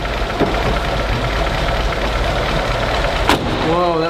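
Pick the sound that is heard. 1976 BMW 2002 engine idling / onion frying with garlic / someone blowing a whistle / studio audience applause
1976 BMW 2002 engine idling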